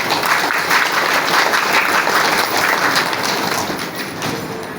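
Sustained audience applause at a district-level tribal memorial gathering in Chhattisgarh, many hands clapping steadily for the full length at a loud, even level, with no clear speech over it.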